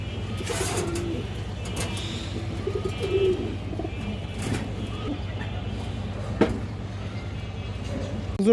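A pair of large cream-eyed Indian highflyer kaldum pigeons coo softly in low repeated murmurs, close by but faint, with someone talking over them and occasional thumps.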